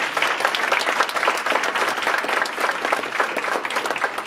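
Audience members applaud warmly in thanks to a local historical society. The clapping is a steady, evenly dense crowd applause that holds at a moderate level for several seconds without pause.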